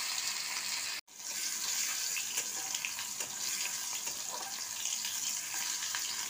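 Chopped tomato frying in a pan of oil for a fish curry, giving a steady, fairly close sizzle that runs on throughout with a brief break near the start.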